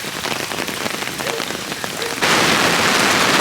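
Heavy rain pours over the Brisbane River during the 2022 Queensland flooding, a loud, close, continuous hiss of rainfall that suddenly grows denser and heavier partway through, with no talking.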